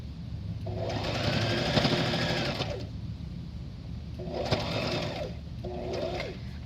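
A sewing machine stitches bias binding onto fabric in three runs, a long steady burst, a shorter one and a brief final run, each whirring close and alone with short pauses between.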